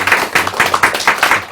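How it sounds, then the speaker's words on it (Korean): A small group claps briefly, a short burst of scattered applause with uneven, quick hand claps. "박수로 맞아주세요"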